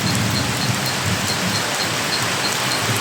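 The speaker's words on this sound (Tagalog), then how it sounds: "Ang lakas ng ulan." Heavy rain pours down at a farm in the Philippines, a dense, steady hiss of drops beating on surfaces up close, with scattered louder patters and no voices.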